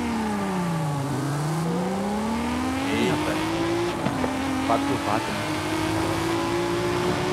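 Audi R8 V10 engine revving and accelerating in a drag race in a video game, a loud, steady engine whine that dips and then climbs in pitch, while someone talks over it.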